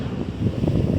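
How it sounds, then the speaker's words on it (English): Steady low, rumbling beach wind buffeting the microphone, continuous and fairly loud with gusty swells throughout. "It is rather windy today"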